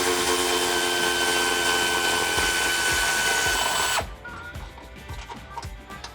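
A power tool whines loudly and steadily as it backs 19 mm bolts out of a Jeep Wrangler JL frame, then cuts off abruptly, leaving quieter ratcheting clicks and rattling of loose hardware.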